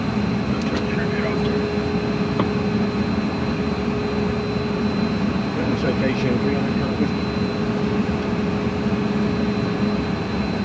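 Twin FJ44-1AP-21 jet engines run at a steady, loud roar with a constant whine heard from inside the aircraft, unbroken for the whole stretch.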